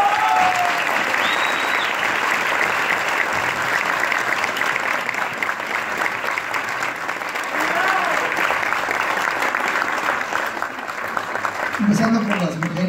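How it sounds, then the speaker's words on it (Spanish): A theatre audience applauds loudly and steadily, sustained clapping filling the room at a celebration of a stage play's 500th performance, with a few voices rising near the end. "Les quiero pedir un aplauso"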